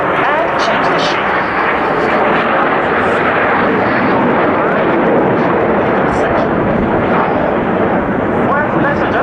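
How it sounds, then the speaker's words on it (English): Frecce Tricolori jets of the Italian Air Force aerobatic team at an air show, a loud, continuous roaring rush of jet engines filling the whole stretch with only slight swells in intensity. "we have counted 9 aircraft. The Italian aerobatic team from 4 points of view"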